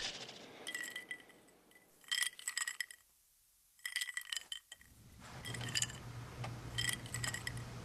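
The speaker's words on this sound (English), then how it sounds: "the transition to a flashback, which is signaled by Christian's ice cubes rattling in his glass" Ice cubes rattling and clinking in a drinking glass in short bright bursts separated by near silence, fairly faint, with a low steady hum beneath the later clinks.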